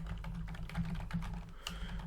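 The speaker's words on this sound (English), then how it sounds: "if I was to start to type in" Fingers tap out a short burst of typing on a computer keyboard, soft rapid key clicks over a steady low hum, quiet and close with no talking.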